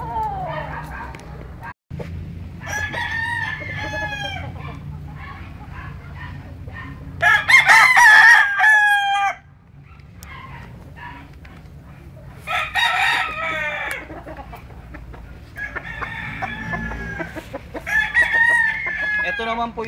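A Boston round head gamefowl rooster crows several times, loud and close, in long strained calls, with clucking and a dog barking between the crows.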